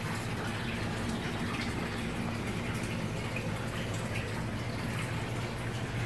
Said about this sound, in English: if you don't like the sound of water splashing all the time